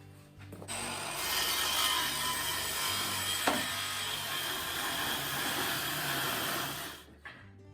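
A saw trimming and tapering the top edge of a wooden pre-hung door gives a steady, continuous rasping cut close by that runs for about six seconds with one sharp knock midway, then stops.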